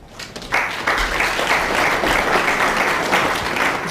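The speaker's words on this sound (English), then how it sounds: "The applause recognising that red." Snooker crowd at the 2007 World Championship quarter-final applauding a potted red, a steady sustained wash of clapping that swells after a brief quiet start and holds evenly to the end.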